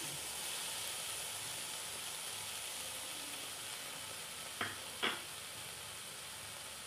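Paneer and black cumin frying in hot oil in a pan, a steady loud sizzling hiss throughout, with two brief knocks near the end.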